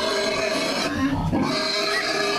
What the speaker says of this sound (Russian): хотел показать, как себя ведут свиноматки, которых отлучили